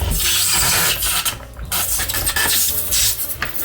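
Harsh, continuous grinding and crunching of ice in a vintage hand-cranked Mr Frosty ice crusher, loud and close, with rough scraping bursts and no talking.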